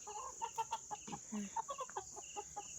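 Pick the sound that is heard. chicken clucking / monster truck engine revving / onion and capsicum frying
chicken clucking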